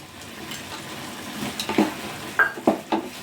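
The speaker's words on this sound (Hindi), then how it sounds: "तो हमने जो ड्राई फ्रूट्स को भून के रखा था, इसे अब इस स्टेज पे मिक्स कर दीजिए।" Roasted dry fruits stirred into carrot halwa in a pan, soft scraping and sizzling, then a few sharp spoon-on-pan clinks toward the end, close and with no voices.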